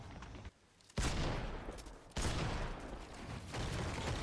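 Loud shotgun blasts from a pump shotgun in Fortnite, two sharp reports about a second apart, each trailing into a dense noisy tail, with continuous game noise between them.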